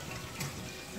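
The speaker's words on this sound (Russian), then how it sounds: "Даже можно помыть руки, действующий кран," Water runs from a working tap for a hand wash, a steady broadband splash and hiss with no talk over it.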